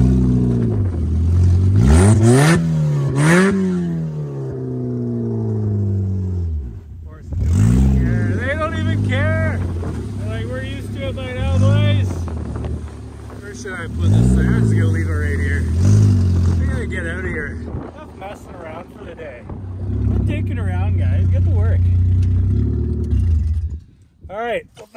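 An old cheap Ford car's engine revs hard through several rising and falling surges up close, dropping between runs and settling into a steady drone near the end, with people talking in between.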